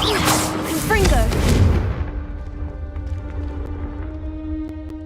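Confringo fire spell blasting in the Hogwarts Legacy video game, a loud fiery burst with crackling and whooshing for about two seconds, fading into quieter ambient game sound with a low hum.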